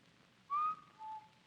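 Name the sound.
wolf whistle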